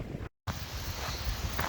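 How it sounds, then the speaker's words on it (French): Wind blows outdoors at an abandoned village, buffeting the microphone in a loud rough rush with a brief dropout near the start. "J'espère que le vent ne pourrira pas trop la vidéo."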